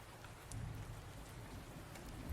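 Steady soft rain ambience in a Werewolf: The Apocalypse tabletop roleplay, a continuous patter of raindrops on surfaces heard alone and fairly faint.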